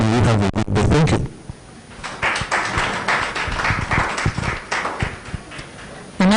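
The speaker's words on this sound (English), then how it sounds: "Another round of applause for Mr. Wetesa Moses" Audience applause at a Uganda ICT intellectual property guidelines workshop, steady clapping that follows a brief moment of speech and continues at a fairly even level.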